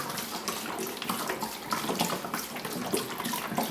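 Water gushing from a tap into a juicer part to fill it for washing, a steady close splashing and hissing flow without a break.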